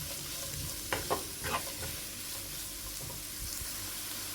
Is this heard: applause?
no